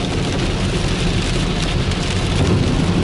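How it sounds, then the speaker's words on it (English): Heavy rain pours outdoors in a dense, loud, unbroken hiss and patter of drops hitting surfaces, steady throughout with no voices. "it is raining so hard out here"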